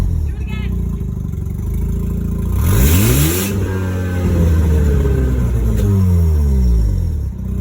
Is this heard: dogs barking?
no